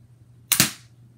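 A Lego M416 rubber band gun fires once, a sharp close snap with a quick double crack that fades fast against a faint background hum.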